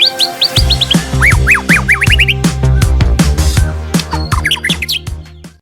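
Loud, close bird calls from a young white-rumped shama: rapid repeated chirps and rising squawky whistles over a steady background hum, calling insistently.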